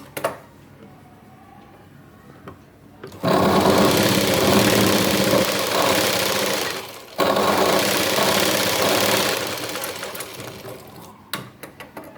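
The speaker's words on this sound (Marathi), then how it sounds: "खालच्या साईडने शिलाई मारून घ्यायची आहे" An electric sewing machine stitches tucks into a blouse in two long, loud runs of fast, even motor whirring, separated by short pauses, with quiet gaps at the start and end.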